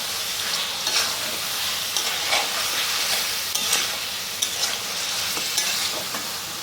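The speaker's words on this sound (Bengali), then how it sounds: "এখন আমি এগুলোকে ভালো করে মিশিয়ে নিচ্ছি।" Tomato chicken with salt is stirred in a frying pan, a constant sizzle with a soft repeated scraping of the spoon, close and alone without any voices.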